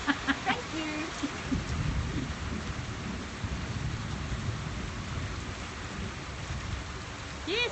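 Heavy rain during a drought pours down in a dense, steady roar with low rumbles of thunder, while a few faint voices and short sounds come through near the start and end.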